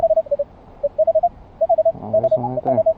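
Metal detector signal tones chatter in short, irregular beeps while sweeping ground that holds a penny and other targets, with a louder cluster of stacked tones near the end.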